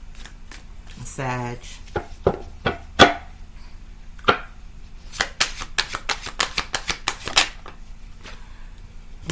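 Tarot cards are shuffled close up in short riffling bursts and quick flicks, with a few words spoken partway through.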